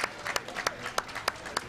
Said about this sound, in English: And we have applause in the warm room for the folks from Sheet D and the hometown crowd from Bucks County Curling Club